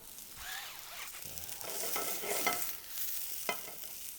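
Mushrooms fry in oil in a pan, giving a soft hissing sizzle under light stirring and clinks of a utensil against the pan, fairly quiet and close, with no talking.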